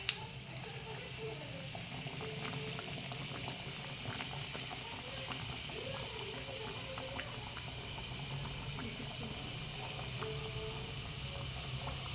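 A homemade kachori filled with pigeon pea kernels frying in hot oil, giving a steady, fine bubbling and crackling that stays even and fairly soft throughout.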